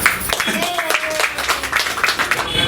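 A crowd claps hands steadily at a Varahi divine wedding ceremony, with dense overlapping claps at moderate loudness for a few seconds and a voice faintly audible underneath.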